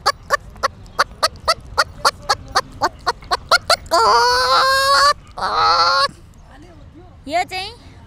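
A voice imitates a mother hen calling her chicks to food: a steady run of about fifteen quick, clipped clucks, then a few longer warbling calls, close and loud.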